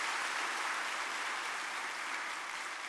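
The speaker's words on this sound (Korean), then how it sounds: "박수로 한번 환영하겠습니다" A church congregation applauding steadily, a dense wash of clapping that holds at an even level throughout with no talking.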